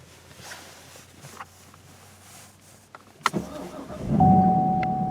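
A 2018 Chevrolet Camaro SS V8 fires up by push-button start: a quiet cabin, a few clicks, then a sharp crank and bark settling into a loud, deep idle.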